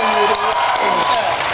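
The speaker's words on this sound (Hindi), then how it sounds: "ताली बजाओ तो ढंग से बजाओ।" Audience applause at a live Hindi comedy poetry recital, steady clapping and crowd noise holding throughout at fairly loud level.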